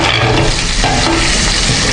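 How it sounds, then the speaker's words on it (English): Cow skin (pomo) and meat boil vigorously in a pot for afang soup, giving a loud, continuous bubbling and sizzling roar with no voices. "Our meat and our pomo is still boiling."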